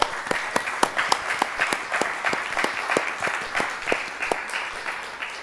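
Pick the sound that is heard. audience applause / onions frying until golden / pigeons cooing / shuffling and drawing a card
audience applause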